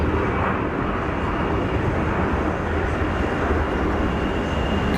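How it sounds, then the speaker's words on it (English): Saudi Airbus A320 jet roaring on its takeoff run at Geneva Airport, a loud, steady broadband engine thrust with a rumbling low end, continuous and alone with no voices. "Saudi A320, cranking it out."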